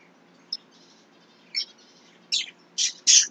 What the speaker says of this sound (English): That's birds.